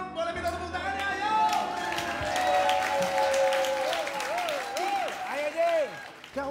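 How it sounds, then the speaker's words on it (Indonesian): Audience applause breaks out after a call to clap during an Indonesian comedy duet segment, dense clapping running under a singing, whooping voice throughout. "Oke, semua boleh kita tepuk tangannya, ayo."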